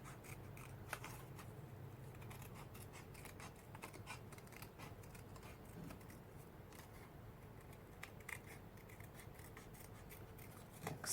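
Scissors fussy-cut paper flower shapes for a mixed media art journal page, giving close, soft, continuous snipping and rustling with rapid small cuts throughout.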